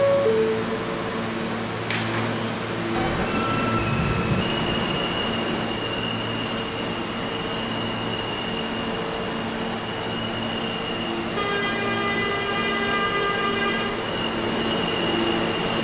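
An R160A M subway train in a Roblox game runs steadily with a loud, continuous rumble and a sustained electric motor whine, a brief clank near the start and rising tonal hums later, with no talk.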